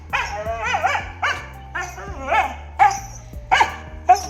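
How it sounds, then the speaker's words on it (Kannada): A tied-up domestic dog barks repeatedly in short, loud bursts, close by, with a few yelping, whining notes mixed in. "ನಮ್ಮ ನಾಯಿ ಅದನ್ನು ಕಟ್ಟಾಕಿರ್ತೀವಿ ಎಲ್ಲೂ ಹೋಗ್ಬಾರ್ದು ಅಂತ ಅದು ಬೊಗಳ್ತಾನೆ ಇರುತ್ತೆ"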